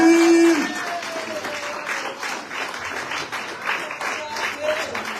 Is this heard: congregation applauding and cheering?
yes